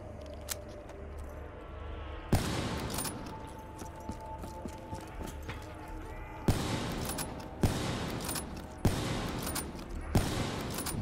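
Gunfire rings out in Call of Duty Black Ops III zombies mode as a series of sharp, separate shots at irregular intervals, loud and close over a steady game background.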